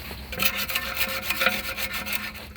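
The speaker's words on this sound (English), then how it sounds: "Scrape all the gunks all around, clean" A metal scraper rubs and rasps repeatedly over the oil suction pipe strainer of a 2008 Hyundai Santa Fe 2.2-litre engine, scraping off sludge in short close strokes with a brief clink partway through.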